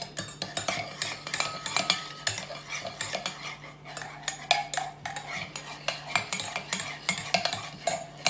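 Egg being mixed with salt in a bowl for a bread omelette, a utensil clinking and scraping against the dish in quick, steady repeated strokes, close and clear with no talking.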